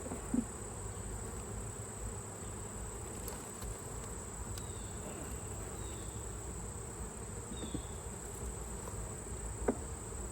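Honeybees buzz softly and continuously during an October inspection of combined hives, a faint steady hum with a few brief louder passes close by.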